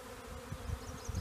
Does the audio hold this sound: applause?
no